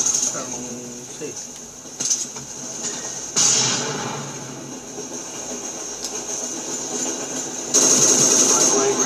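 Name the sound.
train passing in video game Call of Duty Black Ops 2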